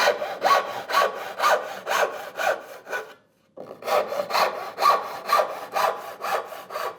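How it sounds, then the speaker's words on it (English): A gent saw cuts wood by hand for a curved cut, giving steady rhythmic rasping strokes close up, a brief pause midway, then a fresh run of even strokes with no talk. "I'm going to go with this, it's a gent saw actually, down the middle, stop just above the line"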